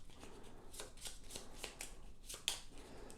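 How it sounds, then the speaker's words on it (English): A deck of alignment cards for the board game Roll Player being shuffled by hand, several quick riffling bursts in a row, close and clear with no talking. "so we'll take this deck of alignment cards and shuffle those up"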